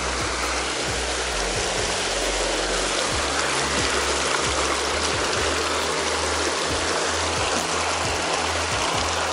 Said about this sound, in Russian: Ура, река!